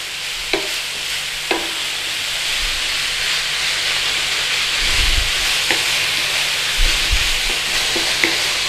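Beef mince sizzles in a pan with a constant bright hiss, broken by occasional scraping taps and low thumps as it is stirred and broken up.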